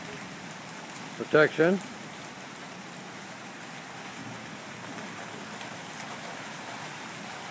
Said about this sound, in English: And there goes the rain coming.